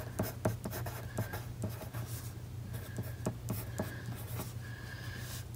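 Colored pencil scratching across paper in short, repeated strokes, a dry rhythmic scribbling close up with a steady low hum behind it.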